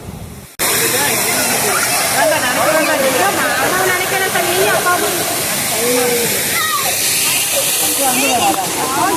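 The Seethargundu waterfall in Palakkad, Kerala, roars as a steady, loud rush of falling water, with voices heard over the continuous noise.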